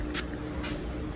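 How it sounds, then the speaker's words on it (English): Two quick hissing bursts of spray on bread for a chicken sub sandwich, short and close, with a low steady hum underneath. "So pretty much I'm just spraying the bread."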